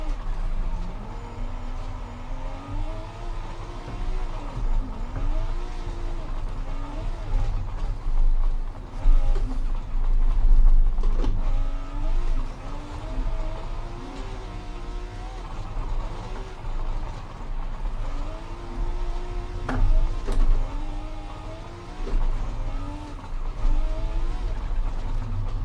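A 1,000-horsepower Toyota Supra driving in Forza Horizon 5, its engine droning and rising and falling in pitch through gear changes, sustained and fairly loud with a low rumble underneath.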